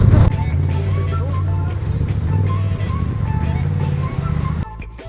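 A 4x4 reverses on a Morocco road trip, its engine a steady low rumble up close that drops off near the end, with a voice briefly heard under it.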